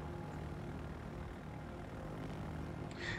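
Aircraft engines launching from a carrier in a naval video game, torpedo bombers taking off: a steady, dense propeller drone that holds at constant loudness throughout, with no voices over it.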